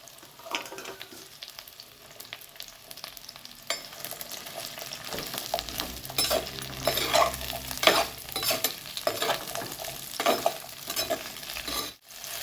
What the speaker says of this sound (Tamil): அதை போட்டு நல்லா ஃப்ரை பண்ணி எடுத்துக்கலாம்